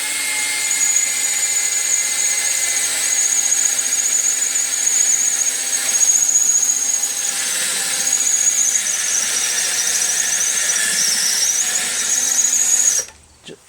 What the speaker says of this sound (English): Do I have to drill a hole through here?